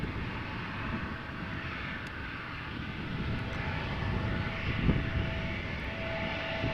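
An Embraer jet moves around Amsterdam Schiphol Airport, a moderate, steady engine roar at some distance that swells slightly midway, with no one talking.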